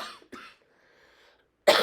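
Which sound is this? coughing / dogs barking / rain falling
coughing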